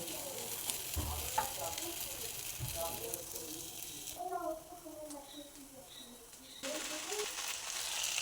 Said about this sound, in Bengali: আর কিছুক্ষণ ফ্রাই করে আমি পাস্তাটা দিয়ে দেবো